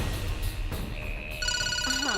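A telephone rings in electronic tones over a low background score, the repeating ring pattern building toward the end of the short stretch with no talking.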